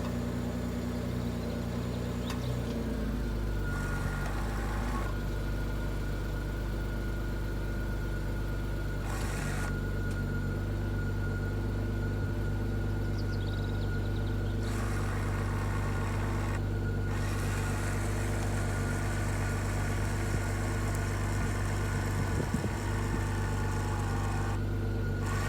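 A 2.7T Quattro Audi A6 engine idles with a steady low hum and drone, starting up near the beginning and running evenly throughout, with a few faint clicks and handling noises on top.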